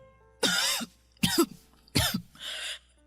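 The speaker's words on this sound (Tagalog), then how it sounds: "ang tindi ng ubo niyo" A woman coughs harshly several times in close succession, three heavy, rasping coughs followed by a softer breathy throat-clearing, near and distinct against a quiet indoor background.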